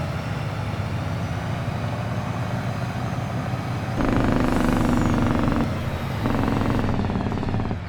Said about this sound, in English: And this truck actually gets up to speed relatively well.